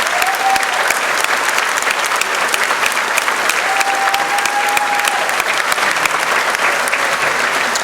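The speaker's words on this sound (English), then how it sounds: "big round of applause for them" A packed graduation-ceremony crowd at West Senior High School gives a long, steady, loud round of applause, with a few whistles rising briefly above the dense clapping throughout.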